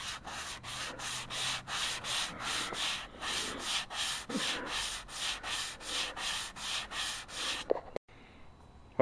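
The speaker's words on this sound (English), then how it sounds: "All right, I sanded it." A piece of a stock Sony 40-inch Trinitron XBR TV stand is sanded by hand in steady, rhythmic back-and-forth strokes, about twenty close scrubbing passes, then it stops and a few knocks and handling sounds follow.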